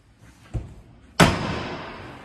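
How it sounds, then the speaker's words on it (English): The door of a 2023 Fox Mountain 265RDS lightweight four-season RV shuts with a solid slam and a ringing decay, preceded by a softer thump, recorded up close. "and then when we shut our doors"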